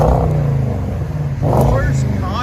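Porsche Cayenne S with a 4.8L V8 and bottle resonator exhaust rumbling loudly at close range, a deep steady idle with a brief rev swell midway, while people talk over it.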